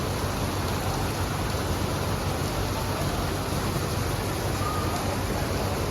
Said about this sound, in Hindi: देखिए कितनी तेज़ से बारिश हो रही है।